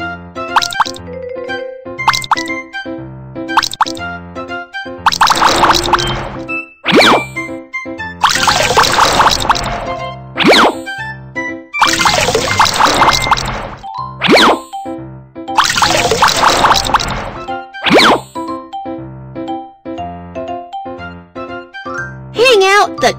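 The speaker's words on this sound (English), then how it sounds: "Tap to wring water out." Cartoon sound effects for wringing water out of freshly rinsed clothes: a bouncy sequence of plinks, drips and playful musical tones with bursts of splashy noise, bright and close throughout.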